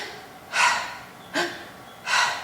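A voice imitates a hog's labored, uneven breathing, giving three harsh, breathy gasping rasps with uneven gaps between them, close and fairly loud with nothing else behind them.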